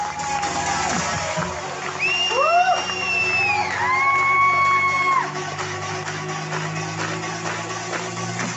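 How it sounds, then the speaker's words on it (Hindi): A seminar audience in Mumbai cheers loudly, with whoops and shouts rising over a dense crowd roar that stays steady throughout. "जोरदार तालियां, जोरदार।"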